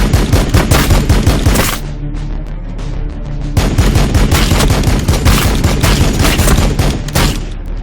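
In Warhammer 40,000: Battlesector, an anti-swarm weapon fires sustained, loud automatic bursts of rapid gunfire. Bursts break briefly, then resume in dense volleys.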